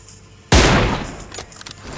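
A single loud gunshot burst in the mobile battle royale game PUBG Mobile, a sharp blast followed by a decaying tail and faint scattered clatter, with no talking.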